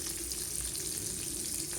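Onion, mustard seeds and cumin fry in oil for a Rajasthani cluster bean sabzi, giving a dense, even crackle and sizzle that stays constant and close, with no talking.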